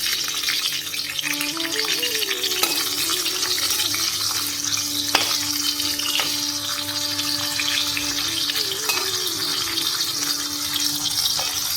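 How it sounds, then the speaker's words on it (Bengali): Sliced bitter gourd and spiny gourd fry in oil in a pan, a steady close sizzle with occasional stirring scrapes and no talking. "তো করলা ভাজা আর উস্তা ভাজাটা করবো"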